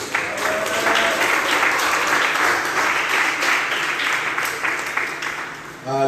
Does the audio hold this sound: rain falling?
no